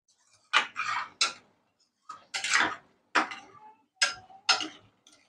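Paneer is mixed into a yogurt and peanut gravy in a pan, heard as a spoon scraping and knocking against the pan in irregular short bursts, close and fairly quiet.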